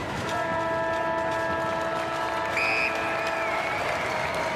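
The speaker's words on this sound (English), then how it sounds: "A lukewarm round of applause at Spotless Stadium." Lukewarm half-time applause from a stadium crowd at an Australian football match, a steady wash of distant clapping and crowd noise with a faint tonal hum running underneath.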